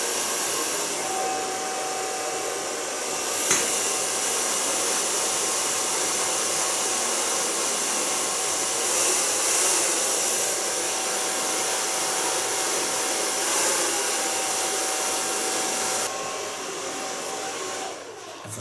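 Hair dryer running steadily close by while blow drying short hair in a salon, a loud continuous whooshing roar with slight shifts in pitch as it moves, with no talking.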